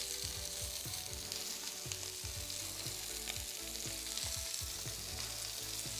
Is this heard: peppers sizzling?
yes